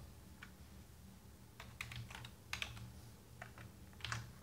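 Close, crisp keystrokes on a computer keyboard while a CSS class name is typed, clicking in short irregular bursts with brief pauses, alone without talk.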